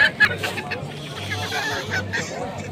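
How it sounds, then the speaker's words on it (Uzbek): Roosters and hens at a poultry bird market give faint clucks and calls amid a steady murmur of crowd chatter and voices. "Ikkita xo'roz, bitta makyon ekan."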